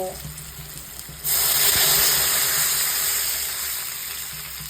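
Water poured into a hot pan of turmeric-fried mango pieces for chutney bursts into a sudden loud, sustained sizzling hiss that slowly eases off.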